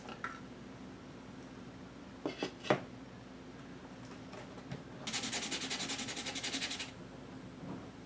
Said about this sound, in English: I'll show you a couple little things that I do with this to like sand it down and polish it.